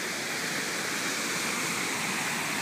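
The Cuyahoga River rushes in a steady, dense roar of flowing water, constant and close with no pauses and no voices.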